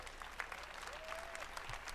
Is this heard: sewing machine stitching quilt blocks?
no